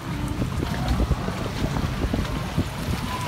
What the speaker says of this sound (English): We're gonna try and get a video all the way around the log flume.